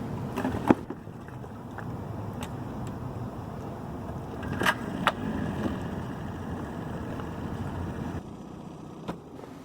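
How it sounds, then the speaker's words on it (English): A small motor dinghy heads from the dock out to a moored boat, its outboard engine droning at moderate distance with wind and water noise and a few sharp knocks and splashes along the way. "It's only a couple minutes dinghy ride from the dock to our boat."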